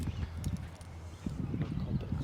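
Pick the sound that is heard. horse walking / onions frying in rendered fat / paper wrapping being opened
horse walking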